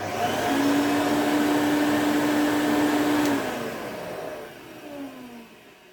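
A 1990 Electrolux Z520 vacuum cleaner switched on and running, a loud close motor roar with a steady whine that drops off and winds down toward the end.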